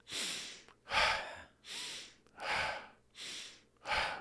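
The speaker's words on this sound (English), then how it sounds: "I want you to inhale and exhale in the upper Dantian" Slow, deep breaths during a guided energy breathing exercise, with six distinct airy inhales and exhales alternating in a calm, regular rhythm, close and fairly soft with no talk.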